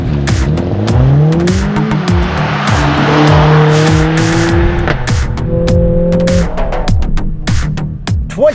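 A 2020 Mercedes-AMG CLA45 4MATIC Plus launches with Race Start, its engine roaring up through rising revs with sharp gear-change drops, loud and close, with rhythmic clicks and rushing road noise.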